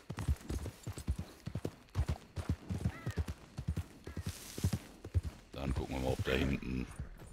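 Horse hooves clop in a quick, even trot in the video game Red Dead Redemption 2 Online, close by, while a voice talks over them; a horse snorts or whinnies near the end.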